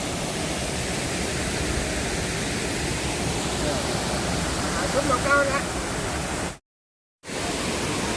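Tad Phu waterfall at Pak Song, Laos, sends out a steady, dense rush of falling water that continues unbroken at a constant level, with someone talking faintly over it and a brief dropout near the end.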